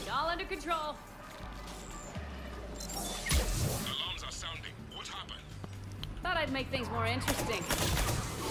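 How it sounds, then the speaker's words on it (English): A gun battle erupts on the Citadel in Mass Effect 3, with bursts of rapid gunfire and impacts cutting across the scene while voices talk and shout over the shooting. "Starting a gun battle in the middle of nowhere, like you do."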